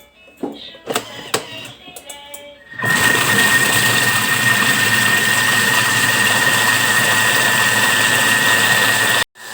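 A stand mixer starts up at speed 4 beating cheesecake batter, a steady loud whirring drone that runs without a break after a few brief knocks and clatters at the start.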